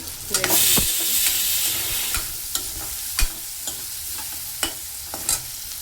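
Bitter gourd pieces fry in hot oil with a continuous sizzle, broken by several sharp scraping stirs of a spatula against the pan at irregular intervals, close and clear with no voices.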